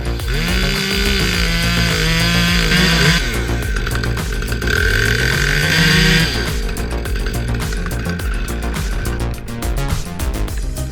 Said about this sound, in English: the Husqvarna T540 meets a 23-foot tree, like hot knife through butter